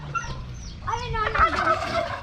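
Turkeys gobble in a burst of warbling calls, several birds overlapping, fairly close, with faint farmyard background.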